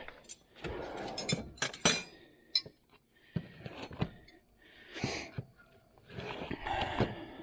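Metal wrenches clink and jangle as a shorter one is pulled from a mechanic's set in a garage, giving irregular bright metallic clatters close by.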